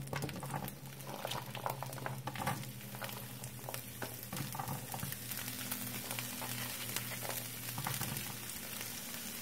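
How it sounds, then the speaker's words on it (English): Onions and thawed sweet pepper strips frying in a little oil in a skillet over medium heat, a dense bubbling sizzle with stirring scrapes and a low hum underneath, continuous and close, without speech. "And then I'm going to add the onions and sweet pepper."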